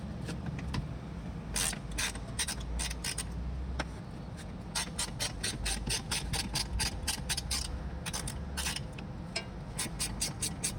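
A ratchet turns out a 10 millimeter screw from the rear bumper of a 2012-2017 Hyundai Veloster, giving rapid bursts of close, sharp clicking with short pauses between runs and no talking.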